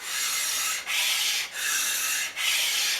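Steady abrasive rasping of a Stanley No. 60 low angle block plane's metal sole being flattened by hand, in three long strokes with brief pauses between them, close and loud with no talk.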